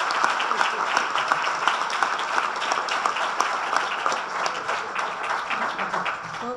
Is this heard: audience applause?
yes